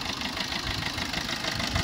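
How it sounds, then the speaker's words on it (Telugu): A 2019 Maruti Brezza ZDI Plus diesel engine idles nearby with an even, slightly knocking rumble that holds steady throughout. "నెక్స్ట్ వచ్చేసి మీకు ఇంజన్ సౌండ్ ఎట్లుంది అది కూడా వినిపిస్తారు చూడండి."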